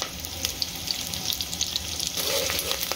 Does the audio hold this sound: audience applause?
no